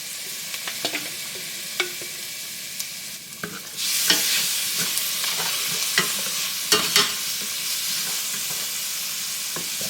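Two teaspoons of garlic hit a pan for a chicken alfredo sauce. A quiet background jumps to a loud, steady frying sizzle partway through, with a few sharp clicks and scrapes.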